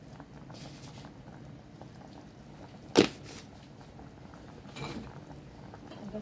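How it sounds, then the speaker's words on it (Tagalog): A pot of sopas soup comes to a boil, giving faint, steady bubbling with one sharp click partway through. "Dahil ayan kumukulo na."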